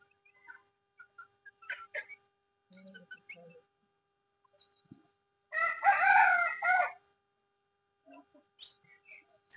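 Backyard chickens make scattered short clucks and chirps, then a rooster lets out one loud, close crow that lasts over a second in otherwise quiet surroundings.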